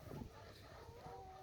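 Backyard chickens clucking faintly in a short, quiet burst, soft and somewhat distant against low background noise.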